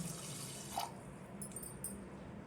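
A steady wash of water pours into a pot of rice and salt for pongal, close and continuous, with a couple of faint metallic clinks.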